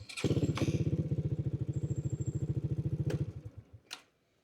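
A Yuki Solid 125 motorcycle engine cranks and catches, running in a steady rapid thumping idle for a few seconds before cutting off, followed by a couple of clicks.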